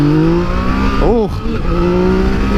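A Yamaha MT-09 motorcycle engine holds a loud steady drone, then revs up sharply and drops back during a brief mini wheelie in low gear, heard up close and continuous throughout.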